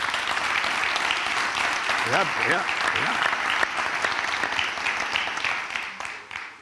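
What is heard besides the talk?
strong applause from audience for a guest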